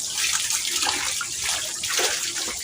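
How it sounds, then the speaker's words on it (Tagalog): Water running steadily from a tap as hands are washed beside a river during electric fishing, a continuous close splashing hiss with no talking. "Wash your hands, kuya."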